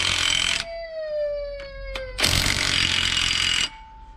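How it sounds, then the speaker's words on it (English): Loud whirring bursts of a power drill, used while changing the engine in a Vauxhall Corsa, start and stop, with a steady high whine between runs and a harder, grinding burst near the end. "it's only a drill."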